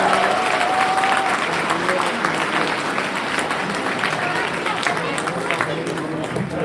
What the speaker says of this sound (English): pretend as if this choir just did an amazing number and clap accordingly